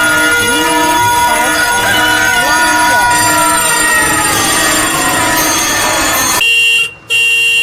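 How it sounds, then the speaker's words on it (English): Steady honking of vehicle horns amid dense traffic noise, continuous and loud, briefly dropping out near the end. "horn by the sounds of vehicles."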